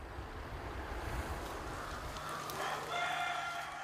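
A Korean native Ogolgye rooster, a black-feathered heritage breed kept in Yeonsan, Nonsan, crows once in the open toward the end, mid-distance over steady low wind or water-like rumble.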